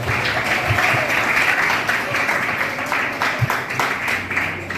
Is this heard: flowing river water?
no